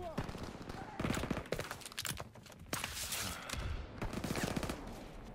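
Rapid automatic gunfire in the World War II shooter Call of Duty WWII, with dense, loud bursts rattling almost continuously at close range and only brief dips between volleys.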